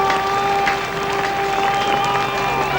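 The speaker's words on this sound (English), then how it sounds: "The crowd are telling it for you." A packed cricket crowd at the Basin Reserve, New Zealand v England in 1978, roars with sustained cheering and applause for a fallen wicket, a dense, steady wash of noise with whistles and shouts rising through it.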